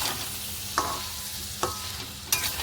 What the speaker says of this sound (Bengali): আলুটা ভেজে নিচ্ছি